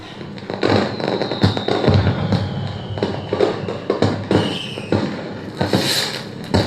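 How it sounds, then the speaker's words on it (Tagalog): Firecrackers go off in a rapid, irregular string of loud cracks and pops over several seconds, close and sharp, with dense bursts throughout. "O, may narinig kayong putukan."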